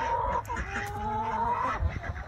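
A rooster crows near a chicken pen, one drawn-out tonal crow of a couple of seconds, fairly close and clear over faint outdoor background.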